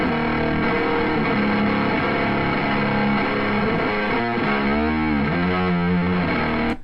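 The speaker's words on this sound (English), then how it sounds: "So we got our nice little distorted guitar here" A heavily distorted electric guitar plays sustained, buzzing chords and bending notes, loud and close, with no talking.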